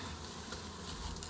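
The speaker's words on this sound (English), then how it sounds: "we'll shake a few more bees" Honey bees being shaken from a frame into a vertical brood box hive, a close continuous buzzing hum of many insects with light patter, steady and without speech.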